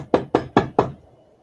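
Four sharp, evenly spaced knocks, loud and close, each with a short hollow ring, followed by a quiet trailing fade with no voices.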